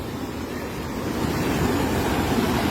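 Floodwater rushes past in Ormoc City with a broad, continuous roar, loud and steady, swelling slightly toward the end, with no voices.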